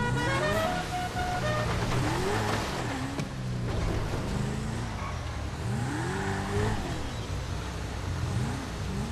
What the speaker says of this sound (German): Die Hupe ist geil.